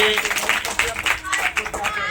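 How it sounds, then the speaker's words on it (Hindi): A small group claps for a student in a Bhagavad Gita class, brief uneven handclaps over about two seconds, fairly close and mixed with light background voices. "वाह, तालियां इनके लिए भी।"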